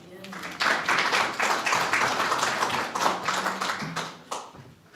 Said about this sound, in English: with a warm round of applause, let's welcome her